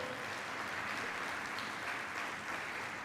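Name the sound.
loud applause for the Lord in church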